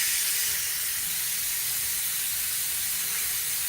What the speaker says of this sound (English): First, we have to open it and let out the steam.